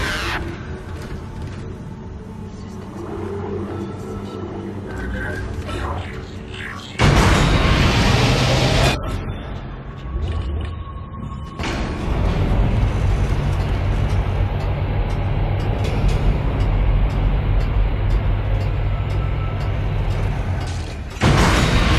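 Heavy booming asteroid impacts and rumbling crashes against a spaceship in the video game Dead Space, loud and sustained, with dense mechanical noise in between.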